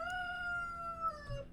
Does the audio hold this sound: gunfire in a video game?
no